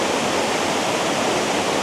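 A waterfall in South Tennessee roars in a steady, dense, loud wash of rushing water that fills the whole stretch with no voices.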